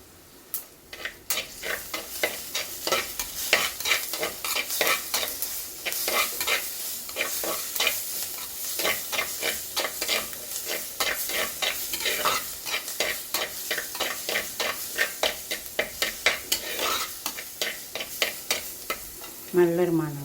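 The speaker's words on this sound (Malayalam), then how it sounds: "ഇഞ്ചി വെളുത്തുള്ളി ഒന്ന് വാടി വരണം, അല്ലെങ്കിൽ ഒരു ചുവ ഉണ്ടാവും." Ginger and garlic saute in a pan for fish curry, with rhythmic spatula strokes scraping and tapping repeatedly over a low, steady sizzle, close and fairly quiet, continuing for about twenty seconds.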